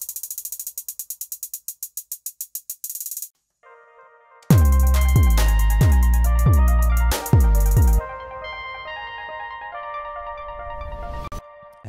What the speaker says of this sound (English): And again, there's my rolling hi-hats.